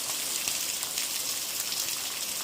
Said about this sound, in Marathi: पावसाने आज पुन्हा अचानक जोरदार रीती हजेरी लावलेली आहे